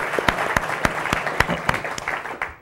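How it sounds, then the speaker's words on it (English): An audience at a history lecture applauds briefly, with sharp distinct claps over a crowd wash that fades out quickly at the end. "Give him a round of applause, please."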